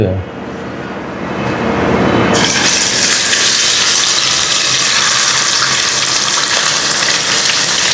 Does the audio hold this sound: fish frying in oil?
yes